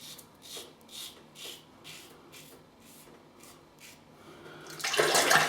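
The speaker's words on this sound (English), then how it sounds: "From the razor and the blade and the soap." A Personna razor blade scraping through OSP Fougere soap lather on stubble, close and crisp, a run of about eight rhythmic strokes with soft rasping pulses, ending in a louder, brighter scrape.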